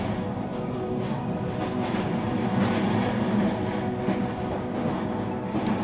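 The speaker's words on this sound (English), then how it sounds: "simply enjoy this beautiful train journey through beautiful Switzerland, sitting on the comfortable, beautiful Swiss train" Steady, continuous rumble and rattle of a Swiss passenger train riding through Switzerland, heard from inside a carriage, with even wheel and track noise holding throughout and no talking.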